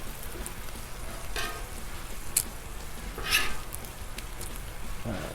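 Thick-cut bacon frying on a Blackstone flat-top griddle, a steady close crackling sizzle with a few sharper pops, no talking.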